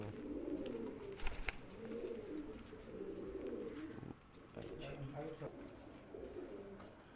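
A bred pigeon from Islamabad, Pakistan, coos softly in repeated, low, rolling phrases, faint and close, with a few sharp clicks and handling noises between them.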